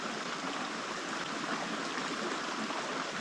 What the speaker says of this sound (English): So I'm going to pour in 2 liters here